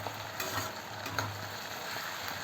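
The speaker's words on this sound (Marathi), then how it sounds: "कांदा परतून होतोय" Onions frying in a pan while cooking chicken korma, a steady close sizzle with occasional small stirring clicks and a low hum beneath, no talking.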